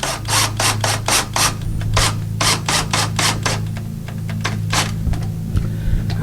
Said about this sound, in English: you can just turn it in by hand with a regular screwdriver